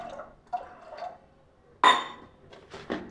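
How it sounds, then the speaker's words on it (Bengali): Water splashes into a pressure cooker holding lentils and chickpea greens, a loud pour at the middle followed by clinks and drips, with a few softer taps of metal and glass before it. "দিয়ে দিলাম পানি।"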